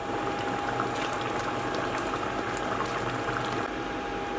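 A pot of South Indian drumstick and carrot sambar with tamarind at a steady rolling boil, continuous bubbling and churning liquid, fairly loud and close, with no voices.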